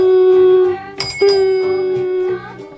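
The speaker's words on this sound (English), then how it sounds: "This is a bell that I use to wake up all the animals on the farm." A bell rung on a farm to wake the animals: a sustained, bright metallic tone with a sharp strike midway, ringing loudly and close over a soft musical background, no talk.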